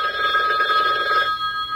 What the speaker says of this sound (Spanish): si suena el teléfono constantemente, constantemente, constantemente, una y otra vez